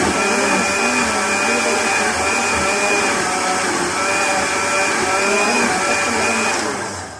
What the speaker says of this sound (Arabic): وهنجيب الخلاط، هنحط فيه الخليط ده وهنزود عليه اللبن.